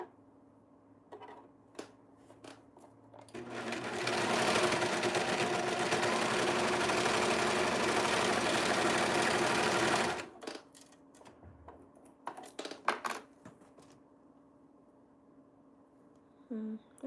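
A sewing machine runs a steady, continuous stitching burst for about six seconds on a test strip of gown fabric, with faint handling clicks and rustles before and after.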